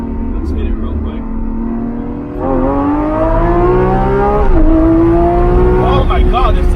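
A 2021 Lamborghini Aventador SVJ Roadster accelerates hard through corners, its loud engine note climbing steadily in pitch, easing briefly and then rising again, close and continuous.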